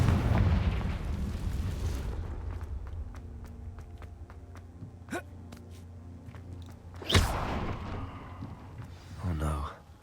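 Confringo fire spell explosions in the video game Hogwarts Legacy: a loud rumbling blast at the start fading out, then sharp bursts and another heavy boom near the end, with a voice speaking over the game.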